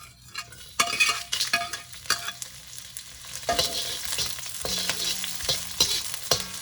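Garlic and red chilies frying on high flame for a spicy chicken dish, a steady loud sizzle broken by repeated clanks and scrapes of a spoon stirring the pan, with no voices.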